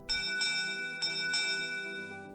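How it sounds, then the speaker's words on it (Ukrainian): A ship's bell on a research vessel rings out in a few clear metallic strikes, its bright tone ringing on and slowly decaying between hits, close and alone. "19 ударів дзвону в пам'ять про загиблих"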